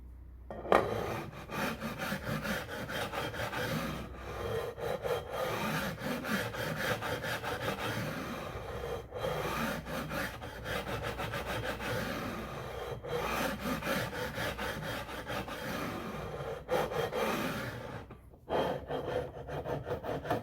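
Steady back-and-forth rasping of a file squaring and smoothing stainless steel fret ends on a Gretsch guitar, close and continuous with brief pauses between strokes.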